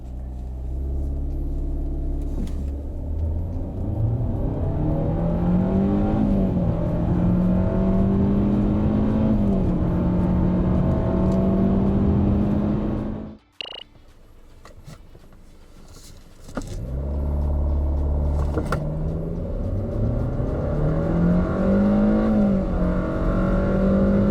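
Two 2020 sedans, a Kia K3 and a Hyundai Avante, each with a 123-horsepower IVT, accelerate hard in turn. A rising engine drone climbs in pitch, cuts off briefly, then a second equally loud run rises the same way.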